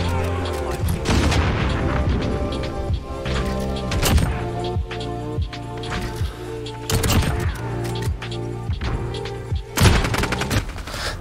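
Rapid gunfire bursts and weapon handling clatter from the first-person shooter Modern Warfare, dense repeated shots and booms over about eleven seconds, loud and close.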